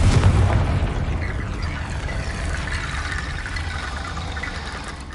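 A Confringo blasting spell explosion in Hogwarts Legacy on PS5, one heavy booming burst at the start that decays into a long rumbling, crackling tail fading over several seconds.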